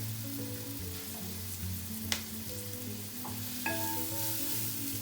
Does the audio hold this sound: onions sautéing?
yes